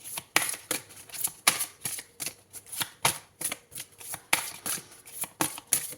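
Tarot cards shuffled by hand in a series of crisp, rapid riffling bursts, about a dozen sharp flutters in an irregular rhythm, close and loud with no speech.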